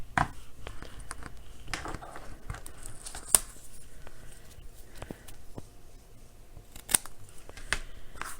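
Scissors snip around a small paper tag freshly stamped in black ink, giving a few quiet, close cuts spread across a soft rustle of handled paper, with no voices.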